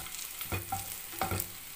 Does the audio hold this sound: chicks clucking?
no